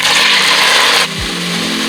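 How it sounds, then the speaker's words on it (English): Chicken pieces fry in oil in a pan over medium-high heat, giving a loud, dense sizzle that drops to a quieter crackle about halfway through. "Fry the chicken first."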